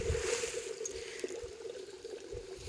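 Water trickling and pouring steadily as it fills up in a village spot after the last rain, a soft continuous flow with faint background activity.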